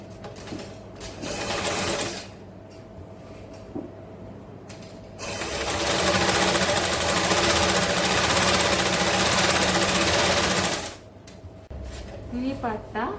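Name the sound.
sewing machine stitching folded silk pavada hem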